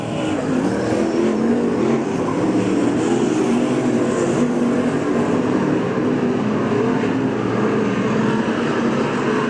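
Late model race cars roar past on the front straightaway at Boyd's Speedway, a loud, continuous engine drone that fills the whole stretch with no break, pushed and strained as the pack runs nose to tail.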